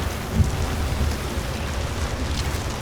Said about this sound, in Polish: Ale zaś nic nie słychać przez ten deszcz.